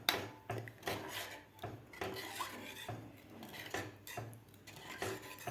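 A spicy Holi-special kat amti curry, made with yelvani stock, is stirred in a pot with a metal spoon, giving repeated scraping and clinking strokes at close range with no talk.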